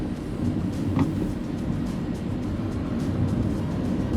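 A Nissan Almera with a 1.0-litre turbo engine accelerates, heard from inside as a steady, even engine drone with road noise and no clear rise in pitch.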